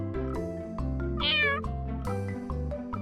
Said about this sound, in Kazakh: Мяу. Бұл мысық.